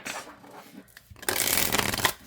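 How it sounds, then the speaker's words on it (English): Oracle cards from an Earth and Sky deck being shuffled, a soft riffle of cards up close followed by a louder, crisp cascading burst of card flicks lasting about a second. "see how it shuffles"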